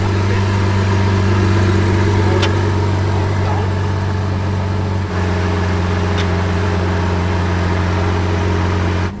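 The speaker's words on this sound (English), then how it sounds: "I love the sound of this car." Lamborghini Sián FKP 37 hybrid idling, a loud, steady low engine hum with a deep constant drone and faint higher whine, broken by a small dip partway through, with no talk.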